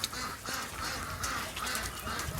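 Ducks call in short overlapping quacks and honks across a flooded pasture during a heavy Pacific Northwest rain, fairly close and steady against a constant wet background hiss.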